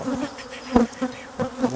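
Honeybees drone in a dense, continuous buzz at an open hive, with the pitch wavering and swelling in a few brief louder pulses close by.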